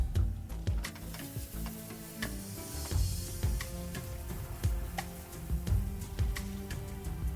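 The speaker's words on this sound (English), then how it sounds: "Saute the paste well until the raw taste of onion ginger garlic goes away" Onion ginger garlic paste sautés in a pan with a soft continuous sizzle, broken by frequent light ticks and scrapes of a spoon stirring against the metal, close and moderately quiet.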